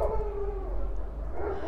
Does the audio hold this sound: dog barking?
yes